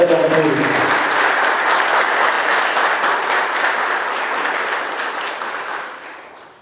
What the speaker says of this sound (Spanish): iniciamos con un aplauso fuerte para los conferenciantes